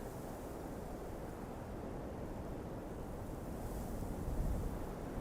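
Surf washes steadily onto a red sand shore as an audiobook sound effect, a continuous low rushing roar that swells slightly toward the end.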